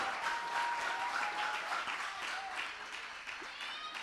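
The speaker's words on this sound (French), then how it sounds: "Tous vos applaudissements" Audience applause at the final of a television presenter contest, a sustained burst of clapping with a faint voice and some tonal sound underneath.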